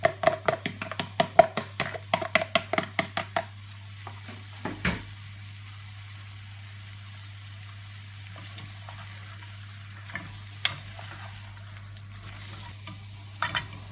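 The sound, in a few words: browned steak and onions cooking in pan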